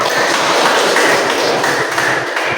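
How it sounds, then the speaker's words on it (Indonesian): A classroom group claps together for a student, steady dense applause filling the whole stretch, loud and close with no talking over it. "kita beri aplaus dulu"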